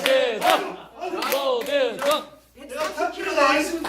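At a Korean gathering, a crowd claps and chants a name in unison several times in a rhythmic call, loud and lively, with the voices dominating over the applause.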